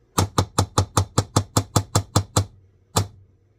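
A whisk raps sharply against a bowl about a dozen times in a quick, even rhythm to knock it clean of sourdough starter, then pauses before one final knock.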